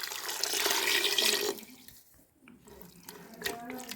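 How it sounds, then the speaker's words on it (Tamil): Water splashes and pours into a cooking pot of eggplant and mutton dalcha for a moment, then stops, leaving a few faint clinks. "கத்திரிக்காய் மூழ்கிற அளவு தண்ணி ஊற்றிக்கலாம் வாங்க."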